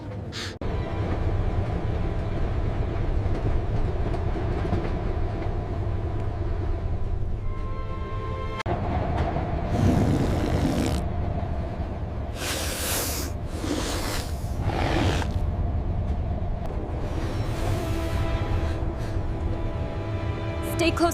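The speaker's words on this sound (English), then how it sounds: "A train!" An animated steam train rolls along with a continuous low rumble and chugging, broken midway by several loud bursts of hissing steam, while voices talk over it.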